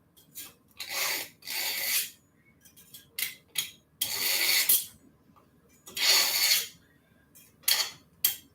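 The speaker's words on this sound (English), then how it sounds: "I do have a quick sharpener here, but then I do have a much better setup." A knife blade is drawn through a quick pull-through sharpener in a series of short rasping strokes at close range, separated by brief pauses.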